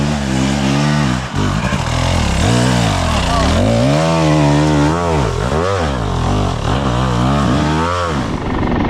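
A dirt bike engine revs hard on Michigan single trail in autumn, loud and close, its pitch sweeping up and down repeatedly as the rider works the throttle over rough ground.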